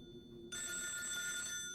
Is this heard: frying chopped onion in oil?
no